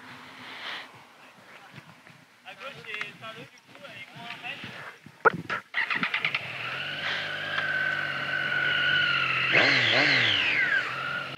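A Kawasaki Street 660 motorcycle engine revs up and pulls away, its rising whine growing louder and steady, with a few sharp rattling bursts before it settles.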